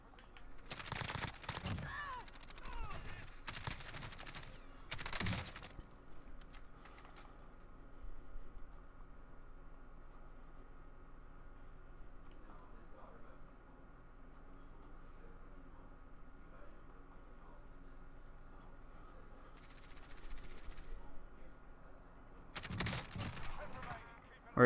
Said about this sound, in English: They're getting shot right behind them, right behind him still.